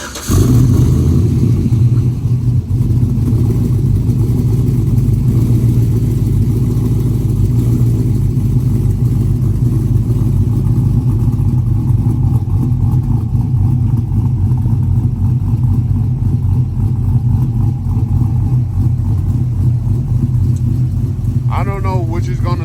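Warm-start idle of a cammed 5.3 V8 truck with an aftermarket exhaust: a steady, loud low rumble with a lopey cam throb runs unbroken throughout, close to the listener.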